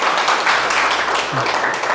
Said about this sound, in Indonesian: Tepuk tangan dong untuk Bawi Karsu ya